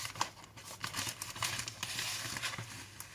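A paper envelope parcel is torn open up close, with quiet crinkling, rustling and tearing in short irregular bursts over a few seconds.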